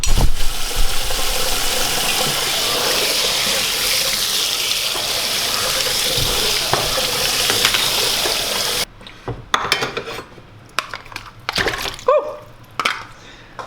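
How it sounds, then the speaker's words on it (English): Hulled barley is washed under running water in a kitchen: a steady gush of water pours for several seconds, then breaks into irregular splashes and sloshing bursts. "First thing we're going to do is wash our barley."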